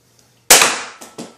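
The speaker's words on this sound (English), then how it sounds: "this is my gun. So yeah, and it fires out yellow balls. So I'm going to try shooting" A toy gun that fires yellow balls gives one sharp snapping shot followed by two quicker, softer pops, close and loud in an otherwise quiet room.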